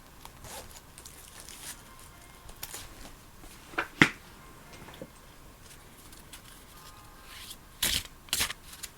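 Oracle and tarot cards being shuffled and handled, a faint, soft papery rustle with a few sharper card snaps and flicks spaced out across a quiet background.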